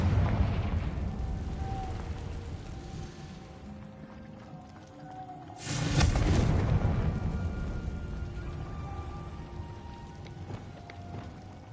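The Confringo fire spell from Hogwarts Legacy bursts in one sudden, loud explosive blast partway through, over a rumbling, busy game soundscape that fades slowly after the hit.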